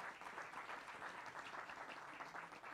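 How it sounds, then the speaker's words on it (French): Sustained applause from an audience at an awards ceremony, a dense, steady wash of clapping that fills the room at a constant level throughout. "je vous demande d'applaudir très fort."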